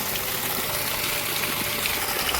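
Water gushes steadily out of a pipe as a large farmhouse tank is drained, a continuous rushing wash of noise that holds at an even level throughout.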